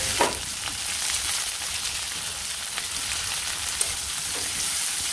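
Cumin and chopped onion fry in oil, giving a steady, dense sizzle and crackle with occasional small pops, close and even throughout, no voices.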